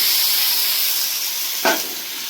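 A pot of rohu fish curry with potatoes simmering on the stove, giving off a steady close hiss of steam and bubbling broth, with one brief louder burst of sizzle toward the end.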